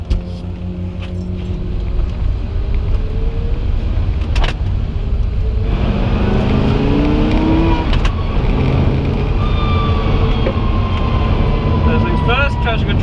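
An Audi R8 on the Donington Park track roars steadily up close while doing skids, with rising and falling engine tones under a person talking.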